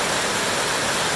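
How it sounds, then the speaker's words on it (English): Ten Sleep Creek rushes through Ten Sleep Canyon in a dense, steady roar of flowing water, close and unbroken for a brief moment. "This is Ten Sleep Creek, and it's just beautiful."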